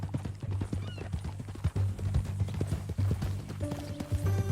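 Horse hooves clip-clop steadily at a walking pace in Red Dead Redemption 2, close and fairly loud over a constant low hum, with an occasional whinny.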